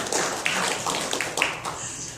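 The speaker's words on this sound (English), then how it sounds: "Applaud. You can applaud." Scattered applause rings out from the audience at a mayoral candidates' forum, a modest patter of clapping with a few sharper claps standing out.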